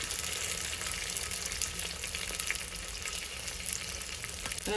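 Rasam ingredients fry in a pan, giving a continuous, fairly quiet sizzle and hiss that holds steady throughout, with no talking.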